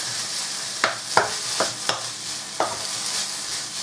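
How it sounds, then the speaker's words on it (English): Vegetables stir-frying in a pan over a high flame, a steady sizzle broken by five sharp spatula knocks and scrapes at irregular intervals, close and fairly loud. "I'm stirring it up."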